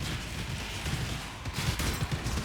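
Detonate Dead spell explosions in Path of Exile while map farming in Crimson Temple, a rapid dense fusillade of blasts with irregular louder bursts, continuous throughout with no talking.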